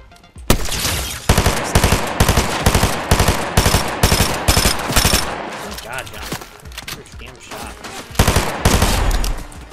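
Rapid bursts of automatic gunfire in a video game, dense and loud with short pauses between volleys, continuing almost throughout.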